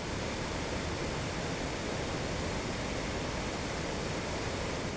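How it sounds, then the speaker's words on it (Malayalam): Kuthunkal waterfall in Idukki, swollen after heavy rain where a check dam overflows: a dense, steady roar of rushing, crashing water, loud and unbroken throughout, with no voices. "നിലവിൽ കനത്ത മഴയിൽ ചെക്ക് ഡാം കവിഞ്ഞൊഴുകിയതോടെ കുത്തുങ്കൽ വെള്ളച്ചാട്ടവും രൗദ്രഭാവത്തിലെത്തി."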